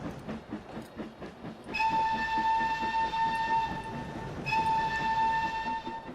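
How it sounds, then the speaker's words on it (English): The Flying Scotsman steam locomotive in Trainz: A New Era chuffs rhythmically, then sounds a long, loud, steady whistle twice, each blast cutting off sharply over the continuing rolling rhythm. "the sound of that train is awesome"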